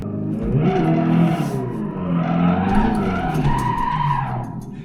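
Tires squeal in a long, loud skid over a rumbling engine in a racing simulator game, the screech wavering in pitch throughout.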